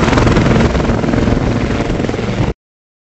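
A royal-family helicopter flies close by, its loud, continuous rotor thump and engine roar filling the soundscape before cutting off abruptly, with no talking.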